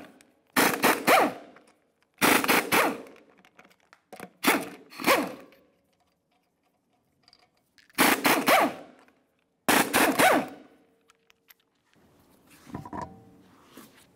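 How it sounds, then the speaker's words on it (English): Five bursts of impact wrench rattling as 19 mm lug nuts come off a 2007-2018 Jeep Wrangler wheel, each a loud, short hammering chatter separated by silent pauses. "We'll continue on by removing all five of our 19 millimeter lug nuts and then the wheel."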